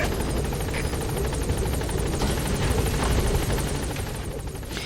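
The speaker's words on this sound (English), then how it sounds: "You think Big Boss would be used to the wind from the helicopter by now?" A helicopter lands in Metal Gear Solid V, its rotor thudding loudly and continuously with a dense, whooshing roar of engine and downwash close by.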